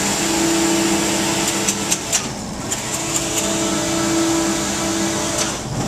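A Stoll knitting machine knitting jacquard fabric, with a steady loud mechanical whir and hum throughout and a few small clicks and knocks partway through.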